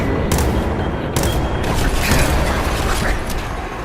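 Rapid minigun fire in the video game Fallout 4 inside an enclosed complex, a loud continuous mechanical roar with clattering bursts sustained throughout.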